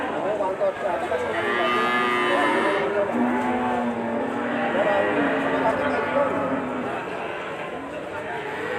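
Cattle moo at a livestock market where bulls are being sold, several long, drawn-out lowing calls overlapping and following one another at close range against a busy crowd background with people talking.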